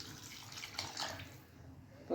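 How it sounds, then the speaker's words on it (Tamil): Tamarind solution poured from a container into a pan for a taro-root curry, a short liquid splash and trickle heard alone at close range. "புளி கரைசல் ஊற்றிடலாம்."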